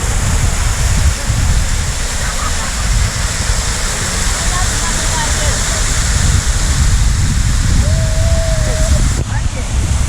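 Tacky Falls waterfall in St. Mary, Jamaica, roaring steadily and loudly up close, a dense continuous rush of falling water with faint voices underneath.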